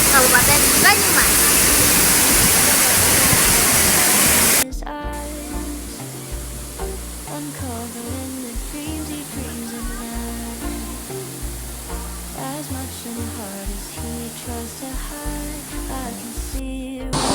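Curug Teluk waterfall in Karangsalam village, Baturaden, Banyumas, a loud steady rush of falling water for the first few seconds, then a softer continuous wash of water beneath a voice talking.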